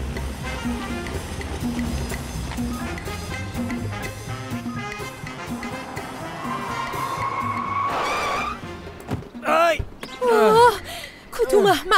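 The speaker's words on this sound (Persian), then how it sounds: "قبل از اینکه بهت بخورم ترمز کردم" A car brakes hard and its tires skid across asphalt in a comedy series scene: a rising screech that swells in the middle, followed by sharp gasps, with voices and background sound running throughout.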